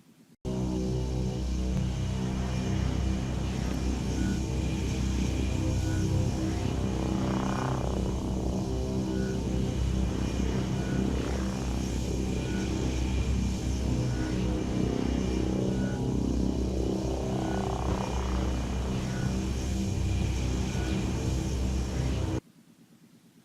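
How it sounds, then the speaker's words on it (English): Two Python aircraft in the game DUST, one running its afterburner, roar at full speed toward the start line, a continuous loud engine whine with periodic swelling sweeps and no talk. "2 pythons going full speed as they approach the start line"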